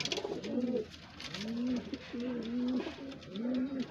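A pigeon of a breed from the Tonk area, one of a breeding pair, coos close by in repeated rolling phrases, each a low throaty swell with brief pauses between, and no voices present.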